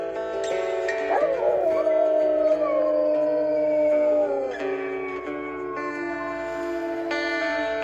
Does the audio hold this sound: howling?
yes